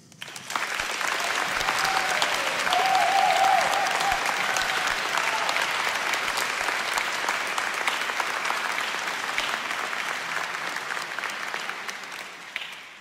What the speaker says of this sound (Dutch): eerst een applaus nog even voor het Constantijn Sinfonietta